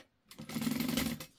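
A sewing machine backstitches tote bag fabric in one short steady burst of rapid stitching, close and alone.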